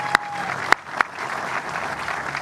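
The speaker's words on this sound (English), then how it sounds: "So let's give all of them a big round of applause." Crowd applause for construction workers at the grand opening of the Long Island Welcome Center, steady clapping throughout with a few sharp, close claps standing out near the start.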